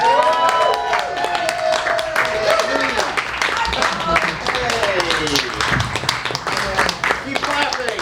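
Audience applause and clapping at a comedy festival for a comedian, a steady loud wash of hand claps with crowd noise running throughout.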